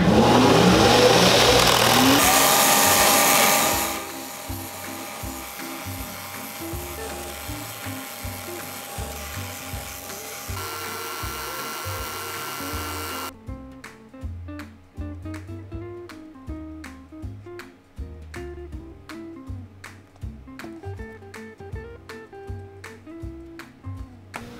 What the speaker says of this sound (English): So you find the closest one, and then you have to sand off this excess.